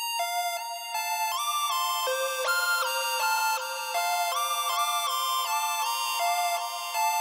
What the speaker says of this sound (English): So we're using Serum for the lead.